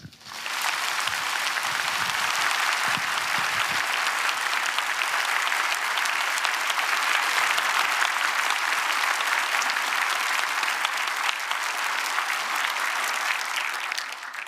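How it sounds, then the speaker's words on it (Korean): Loud, sustained applause from a church congregation welcoming a pastor at a dedication service, steady clapping filling the room for about fourteen seconds with no talk. "최대한 뜨거운 박수로 모시겠습니다."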